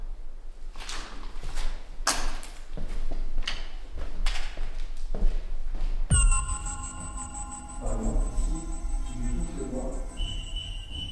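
After some clattering handling noises, a vibrating electronic ghost-hunting device gives off thin, sustained high tones and wavering electronic warbles that hold steady to the end.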